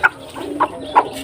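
A mother hen kept with newly hatched chicks gives three short, soft clucks, close by and evenly spaced, with no voices around.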